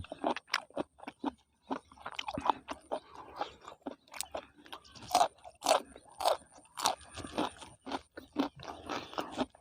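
Someone eating blanched apple snails with seafood dipping sauce, close wet crunching, sucking and chewing bursts in an irregular rhythm, with small scraping clicks of shells.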